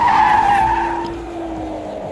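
Car tyres squealing and skidding in a racing video game, one loud screech that fades into a sustained engine drone, with no talk.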